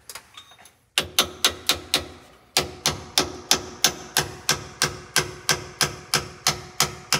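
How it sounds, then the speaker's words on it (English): Sharp metallic hammer taps on a punch during bus suspension work on a Flxible bus, evenly spaced at a steady rhythm, with a short pause early on before the tapping continues. "I can start tapping it with a punch and a hammer"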